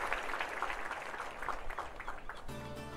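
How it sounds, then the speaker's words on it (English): A theatre crowd claps steadily as a play begins, a dense, continuous patter of many hands held at an even level throughout, with a brief sustained tone cutting in near the end. "the crowd claps as the play begins"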